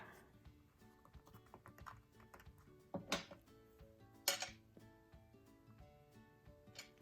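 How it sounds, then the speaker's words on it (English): Quick clicking keystrokes on a keyboard, a close run of small irregular taps broken by two louder clattering bursts, with no talking. "now I can type away."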